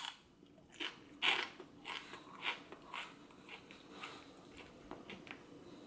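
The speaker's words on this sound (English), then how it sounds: "Did you guys hear that crunch?" A few crisp crunches as a potato chip is bitten and chewed close to the mic, quiet and sparse against a soft background hiss.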